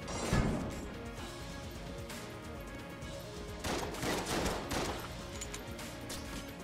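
Gunfire in Enter the Gungeon comes as quiet, scattered clusters of cracking shots and impacts, with one early burst and a denser flurry of shots later on. No one speaks.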